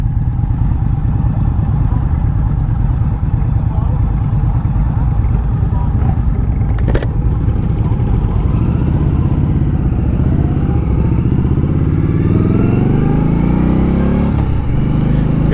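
A 2018 Indian Scout Bobber ABS motorcycle heard while riding, its engine a loud, steady close drone that rises and falls in pitch through gear changes, with wind buffeting throughout.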